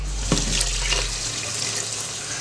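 Water poured into a pressure cooker holding orzo pasta and chicken, a steady close splashing pour that runs the whole short stretch alone.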